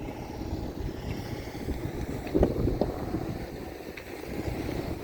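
Strong wind gusting during a night snowstorm on a snow-covered street, a steady broadband roar with buffeting against the microphone and a louder gust near the middle, no voices.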